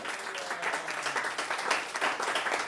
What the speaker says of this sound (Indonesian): Tepuk tangan yang sungguh-sungguh